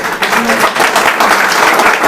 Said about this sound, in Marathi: जोरदार टाळ्या होऊ सरांसाठी